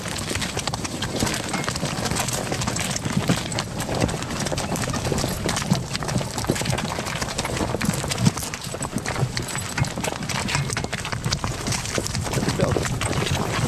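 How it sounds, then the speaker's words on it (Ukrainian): A pair of mares walking briskly on grass, hooves clip-clopping in a steady, continuous rhythm close by, with faint talk now and then beneath the hoofbeats. "Коні так скоро йдуть."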